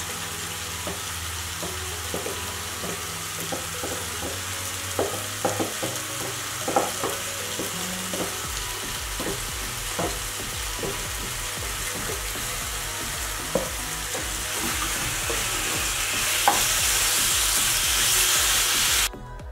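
Seasoned fish and onion fry in a pan with a steady close sizzle, scattered clinks and stirring scrapes through the whole span, and the hiss swells near the end.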